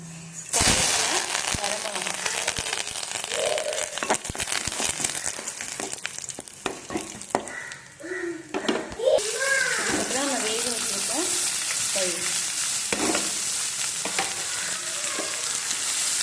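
Loud continuous sizzling and crackling of mustard seeds and lentils spluttering in hot oil, with stirring clatter and a voice talking partway through.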